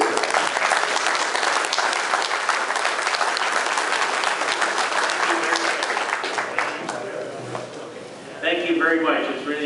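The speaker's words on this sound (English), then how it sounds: "let's get a round of applause for Mr." Sustained applause from an audience welcoming Yankees pitcher Fritz Peterson to a pinstripe faithful Iowa chapter gathering, loud and dense throughout, easing slightly near the end before a voice briefly cuts in.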